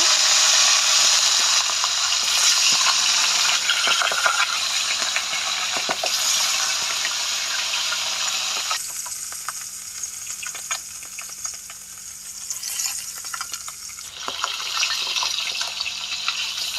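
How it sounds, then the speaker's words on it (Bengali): Catla fish heads frying in the same hot oil used for potatoes, a bright continuous sizzle that drops away midway and then swells again, heard close with no talking. "এখন আমি মাছের মাথাগুলো এই তেলের মধ্যেই ভেজে নেব"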